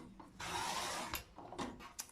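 Scissors cut through white paper strips, a close, dry hissing snip that runs for about half a second, followed by shorter rustles and crisp paper clicks.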